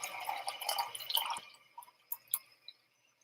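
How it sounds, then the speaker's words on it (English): Plain water runs into a can during cooking, a bright trickling pour that stops partway, followed by a few faint drips and small clinks in a quiet room. "So I filled this can, filled it one more time with just plain water."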